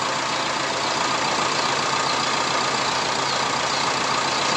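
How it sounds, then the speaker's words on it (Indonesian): Diesel engine idling with its electric radiator fan running, a steady, dense hiss and whir over a continuous low engine drone, unbroken for the whole stretch. "Pen elektriknya sudah menyala."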